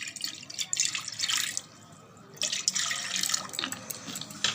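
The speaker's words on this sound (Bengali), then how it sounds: "প্রেসার কুকার নিয়ে তার মধ্যে অল্প জল দিলাম।" A small amount of water pours into a pressure cooker in a home kitchen, a steady splashing trickle that pauses briefly midway and then resumes, close and moderately loud with no talking.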